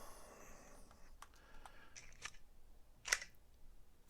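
A weapon reload in an Unreal Engine 4 shooter: a few quiet mechanical clicks and slides, then one sharp metallic snap near the end, close and alone with no talk.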